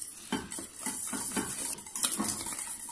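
A spoon stirs cream in a pot on the stove, with rhythmic scraping and soft clinking strokes repeating steadily up close.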